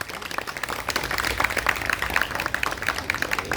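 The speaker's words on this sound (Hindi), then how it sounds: "योगाचार्य जी के लिए जोरदार तालियां हो जाए प्लीज़" An audience claps for a yoga teacher at a Yoga Day programme, with moderately loud, scattered hand claps that continue throughout.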